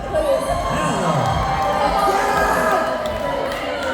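Crowd at a Black Veil Brides concert Q&A at House of Blues Myrtle Beach cheering, whooping and shouting loudly and continuously, with voices mixed in close by.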